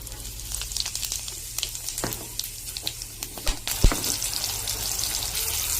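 Eggs being stirred and fried in a pan for a Bengali village-style egg dish, a soft continuous sizzle broken by scraping and clattering spatula strokes, close up, with a heavier knock near the end.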